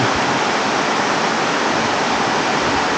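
A river rushing beneath a bridge, a dense, loud, steady wash of flowing water filling the whole stretch without pause or voices.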